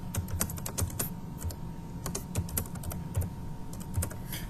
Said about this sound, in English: The kids can actually type into these.